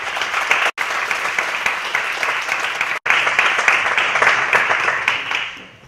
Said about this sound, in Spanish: También un aplauso para él.